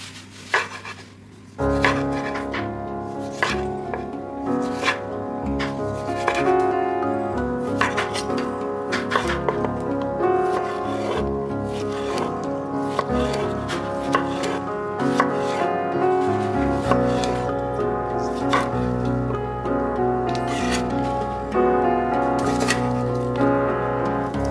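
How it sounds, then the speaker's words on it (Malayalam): Tomato, cucumber and onion sliced for a chicken burger, a close run of crisp knife strokes tapping on a cutting board in a steady, regular rhythm that continues throughout. "ബർഗറിന് വേണ്ടിയിട്ട് അല്പം ടൊമാറ്റോയും കുക്കുംബറും ഒണിയനും ഒന്ന് സ്ലൈസ് ചെയ്തെടുക്കണം."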